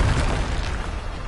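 A Bombarda explosion spell in the Hogwarts Legacy video game, a loud booming blast that fills the whole short moment and stays dense and rumbling throughout.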